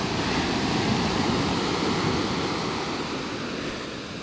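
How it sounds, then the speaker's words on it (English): Ocean waves break on a Southwest Florida beach in a steady, broad roar of surf that fades slightly at the end, with wind on the microphone and no voices. "these waves are just getting bigger"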